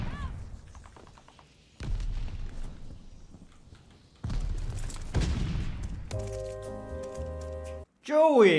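Silenced pistol shots in a hardcore video game match, with several muffled thuds and bursts mixed with game effects, while a player talks over much of the action.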